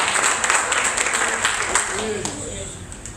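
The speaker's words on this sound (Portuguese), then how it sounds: "Então aplaude o nome do Senhor Jesus" A church congregation claps for the name of the Lord Jesus, a dense wash of applause that fades slowly across the moment, with a voice faintly present underneath.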